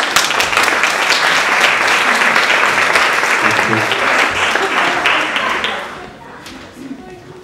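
Audience applauding at the opening of a German conference on property, media and the public sphere: dense, sustained clapping from a crowd that holds steady for about six seconds, then thins into a few scattered claps.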